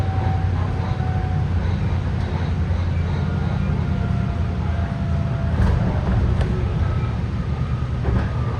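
A BART train on the orange line slows for a curve and crossover, giving a steady, loud rumble of wheels on track with faint brake squeals and occasional clicks, heard from inside the cab.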